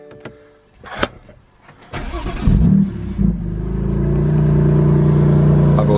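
A BMW M2 Competition starts with a few clicks and a whirring starter, then the engine catches with a loud flare and settles into a deep, steady idle close by.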